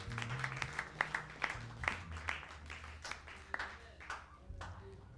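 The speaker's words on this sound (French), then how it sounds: "Acclamons pour le Seigneur Jésus." A church congregation applauds for the Lord Jesus, scattered claps rising into rhythmic clapping over music, moderately distant and somewhat uneven in timing.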